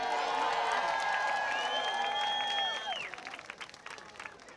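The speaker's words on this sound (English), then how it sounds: "One more round of applause for Ms." Audience at the Orchard Gardens New Edition Day event applauds with cheers and whoops, loud crowd noise carrying high shouted voices that fades after about three seconds into scattered claps.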